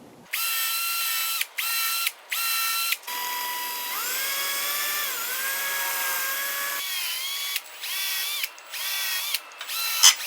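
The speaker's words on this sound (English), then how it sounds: "When you're drilling with a long skinny bit and you're going deep, you got to keep pecking" A power drill boring deep into wood with a long, skinny bit, its motor whining in repeated bursts: several short pecks, a long sustained run with shifting pitch as the bit loads, then more brief pulses, close and loud with no talk.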